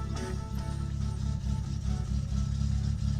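Car engine idling steadily in My Summer Car, a low rumbling drone with a faint harmonic whine, continuous and close for the whole stretch, with no voices.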